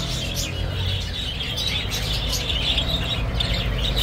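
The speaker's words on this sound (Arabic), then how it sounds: "طيور الحب الأوروبيات" Lovebirds at an outdoor animal market in Baghdad chirp in thin, overlapping tweets over a steady background of crowd and street noise, fairly constant throughout.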